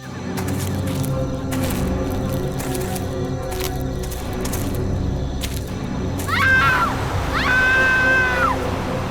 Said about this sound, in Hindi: सर ये चीखने की आवाज सुनी आपने?